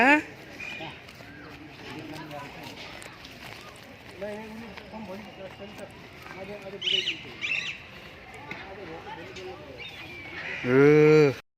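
A cow moos loudly and close at Central Zoo in Nepal, a deep drawn-out call near the end, while family voices and a child chatter throughout.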